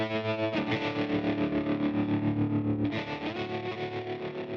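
Electric guitar chords run through a loaded pedalboard of distortion, chorus and echo effects, sustaining thick and loud with a fresh strum near the three-second mark, no voices.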